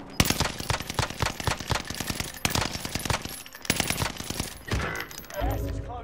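Rapid automatic gunfire in a video game firing at a helicopter, dense bursts of sharp shots repeating quickly and loudly throughout, with a brief change in tone near the end.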